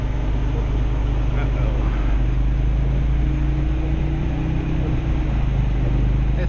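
A Ford Focus RS drives sideways through a blizzard, its steady engine and road rumble loud and continuous throughout, with a brief spoken exclamation over it.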